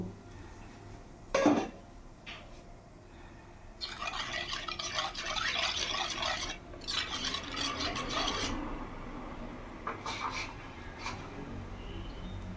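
Ground cumin, coriander, salt, turmeric and chili powder are stirred into a little water, giving a quick clink followed by longer bursts of wet, swishing scraping in a bowl, close and moderate in level, with no voice.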